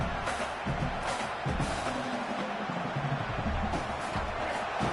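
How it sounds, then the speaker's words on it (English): A football stadium crowd at a UCLA at Virginia Tech college game roars loudly and continuously, a dense sustained wall of cheering with some surges. "This crowd, full throat, splitting the eardrums and letting them know it's going to be a long day."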